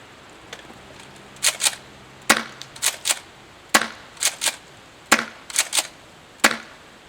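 An airsoft M870 shotgun fed from a Lancer Tactical magazine fires about a dozen loud, sharp pops, often in quick pairs or triplets with short gaps between them.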